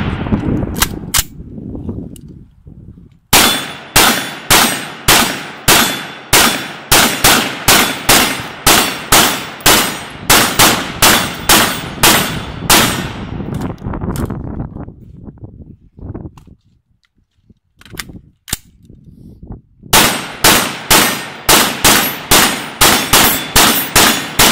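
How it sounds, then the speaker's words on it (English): Rapid gunfire from a Daniel Defense MK18 AR-15 pistol, loud and close, with sharp repeated shots ringing off steel targets in fast strings, a brief pause midway, then another burst. "Let's do a little shooting."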